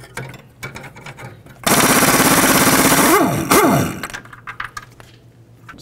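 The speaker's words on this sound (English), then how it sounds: "and then I'm going to remove the nut." A pneumatic impact wrench spins a nut off a control arm bolt on a 1994-2004 Chevy S-10 front suspension, a loud continuous buzzing rattle for about two seconds with pitch shifts, amid workshop clatter.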